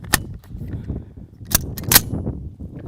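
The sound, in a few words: CMMG Banshee 9mm firing Winchester subsonic hollow points, suppressed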